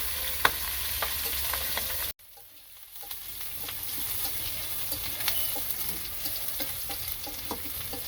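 Pabda fish fry in oil in a pan with a steady, close sizzle dotted with small crackling pops. The sound cuts out briefly, then the frying swells back in.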